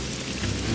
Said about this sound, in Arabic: أول مرة نشوف مثل هذه الأمطار والرياح